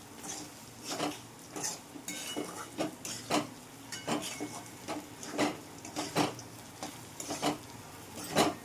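Repeated scraping strokes of a spoon stirring bitter gourd curry with spices in a pan, a steady rhythm of knocks and scrapes about once a second with a faint sizzle underneath, close and fairly loud.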